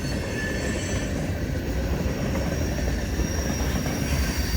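Freight train M426, a long train of propane and plastics cars with 546 axles, rolling steadily past through Clinton, with continuous rumbling wheels and faint squeals heard close by.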